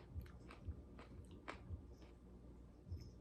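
A crunchy fast food taco from Jack in the Box is bitten and chewed close up. Several quiet, crisp crunches come at an uneven pace with no talking.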